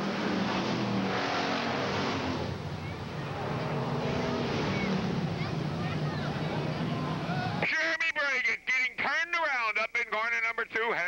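Race cars roar around a dirt track during a feature race, a dense loud engine drone under an announcer's voice, then abruptly giving way to close, bright, warbling engine revs.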